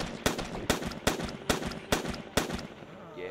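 Assault rifle fire in Outbreak: The Nightmare Chronicles: six loud, evenly spaced shots about half a second apart, each with a short ringing tail, then a brief quieter rustle at the end.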